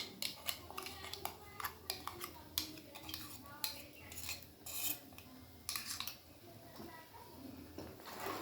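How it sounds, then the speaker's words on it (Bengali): A utensil stirs mango kasundi in a pan over low heat, scraping and clinking in repeated short strokes against the metal, close by and fairly quiet, with soft background sound in between. "দশ থেকে 15 মিনিট আমি লো আঁচে এটাকে নাড়াতে থাকবো।"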